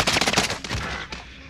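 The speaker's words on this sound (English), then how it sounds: "I'm taking fire!" Automatic gunfire in Call of Duty: Modern Warfare, a rapid burst of loud, close shots followed by a few scattered cracks as the firing tapers off.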